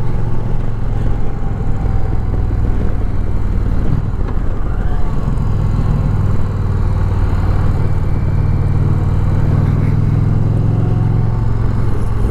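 An Indian Challenger V-twin motorcycle engine runs steadily and close by, a dense, continuous low rumble holding an even level throughout with no talking.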